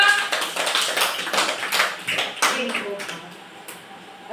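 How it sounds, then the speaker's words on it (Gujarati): Young children at an anganwadi centre clapping their hands, a ragged burst of many small claps at close range, irregular and overlapping, with voices talking over it. "ચાલો તાળી પાડો"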